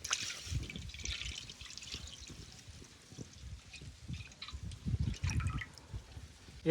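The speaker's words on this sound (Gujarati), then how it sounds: "હવે નાખી દઈએ આપણે દૂધ।" Milk trickles and splashes into a cooking pot that already holds a little water, the start of a village-style basundi; the pour is steady and close, with louder gushes near the end.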